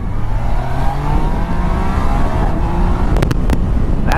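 A 2019 Yamaha Niken three-wheeled motorcycle accelerating hard on the road, engine pitch climbing steadily under heavy wind rush, loud and close, with a few sharp clicks near the end.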